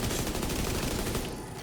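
Explosions and gunfire in a video game, a dense rapid barrage of loud blasts and crackling that holds steady and then thins out toward the end, with no talking.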